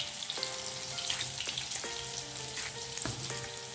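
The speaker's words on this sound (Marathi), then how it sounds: "मध्यम आचेवर आपल्याला तळायचे आहेत।" Bhaji fritters fry in hot oil over medium heat, giving a steady close sizzle with scattered crackles and pops throughout.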